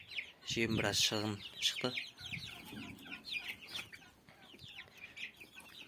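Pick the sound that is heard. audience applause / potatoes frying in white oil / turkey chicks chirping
turkey chicks chirping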